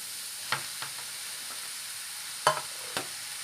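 Soft steady sizzling in a pan as beetroot and greens stir-fry, broken by a few sharp scraping clicks of a spatula stirring, close and fairly quiet.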